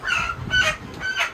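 A live chicken at a market stall gives a few short squawking clucks, three quick bursts, close and moderately loud with no talk over them.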